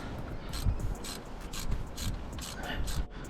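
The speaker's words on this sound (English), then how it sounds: "So now we're just gonna undo the bolts for the chain tensioner." A ratchet wrench undoes the three T30 chain tensioner bolts on an Audi TT engine, giving close, rhythmic bursts of metallic clicking that repeat steadily throughout.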